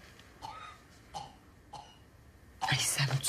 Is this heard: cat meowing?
no